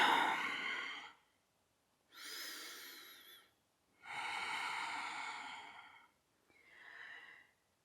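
Slow, deep yoga breaths in mountain pose, four long exhalations and inhalations close to the mic, each a soft airy rush separated by brief quiet pauses.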